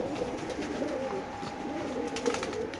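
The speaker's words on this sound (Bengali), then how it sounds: "খুব সুন্দর বড় সাইজের কবুতর মাশাআল্লাহ ভাই।" Large pigeons at a pigeon market cooing softly and repeatedly, close by, with a faint steady background hum and no talk.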